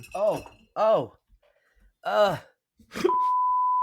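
Several groaning, moaning vocal sounds come in short bursts, then a steady electronic censor beep cuts in over a burp and holds to the end.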